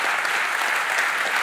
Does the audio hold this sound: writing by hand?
no